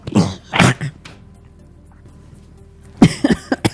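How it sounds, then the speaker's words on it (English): A person coughs twice in quick succession, then after a quiet pause coughs again in a short burst of several hacks, close and loud. "Made myself cough."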